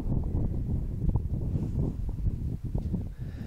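Steady low roaring wind buffets the microphone with continuous rumbling gusts over open sagebrush, no voices heard.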